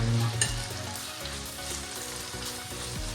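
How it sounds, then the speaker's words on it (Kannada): Tomatoes frying with half-cooked onion in a pan for vegetable shavige bath, a close steady sizzle under repeated stirring and spatula scrapes, with no talking. "ಟೊಮೊಟೊ ಹಾಕಿ ಇವಾಗ ಲೈಟಾಗಿ ಫ್ರೈ ಮಾಡ್ಕೊಳ್ಳೋಣ"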